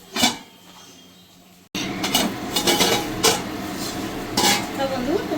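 Bengali spice masala being stirred and fried in a pan for a tangra fish dish, with a metal spoon scraping and clinking against the pan in repeated strokes after a brief quiet start, close and fairly loud, no talking.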